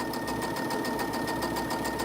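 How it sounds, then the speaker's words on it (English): A sewing machine stitching quilt star blocks runs at a steady rapid pace, with a continuous even mechanical hum and rhythmic needle clatter, close and moderately quiet. "we're going to sew that on that side"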